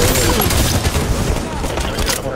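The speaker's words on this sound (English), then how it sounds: "Watch the enemy fire!" Enemy gunfire in the shooter Halo 5 Warzone, a loud close burst of rapid shots and booms rattling continuously, with a player's voice mixed in.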